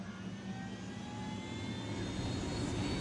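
A helicopter engine in the Ghost Recon Wildlands video game gives a loud, steady roar with a whining high tone that holds throughout, with no voices.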